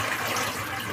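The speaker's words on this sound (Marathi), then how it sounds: "आता मी या चाळणीमध्ये टाकून घेत आहे" Boiled leafy vegetable is tipped into a colander, giving a brief, close splash and gush of draining water lasting about a second, with no voices.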